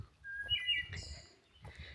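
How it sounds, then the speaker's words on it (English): Birds chirp and whistle on an evening hike at Gibraltar Rock, several bright, quick calls in short bursts near the start and middle over a quiet outdoor background. "Some talking birds tonight."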